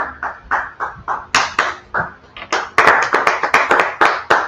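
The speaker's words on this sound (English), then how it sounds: "Yeah, clap it up. Clap it up." A congregation claps together at the ISUPK Austin Sabbath service, sharp hand claps landing in a steady rhythmic beat that quickens and grows louder toward the end, with no talking over it.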